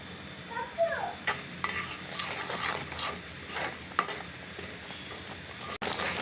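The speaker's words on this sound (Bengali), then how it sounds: "একটু একটু দিয়ে নাড়িয়ে নাড়িয়ে নিতে হবে" Coconut and roasted rice flour are stirred in a pan for traditional bhadua, with irregular scraping and light clattering of a utensil against the pan, fairly quiet and close, with no talk.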